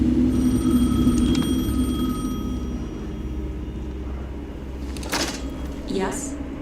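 Telephone ringing in Alan Wake 2, a ringing tone with bell-like overtones over a low ambient drone, followed by a few clunks and speech.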